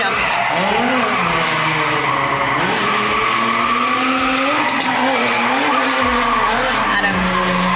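A Nissan 350Z drifts with loud, sustained tire squeals that rise and fall in pitch over a roaring engine, close and continuous, with voices faintly underneath.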